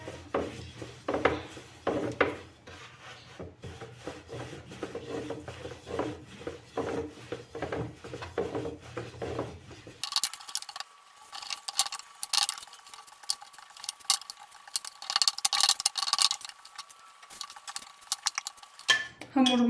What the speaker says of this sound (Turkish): Hamurumu açtım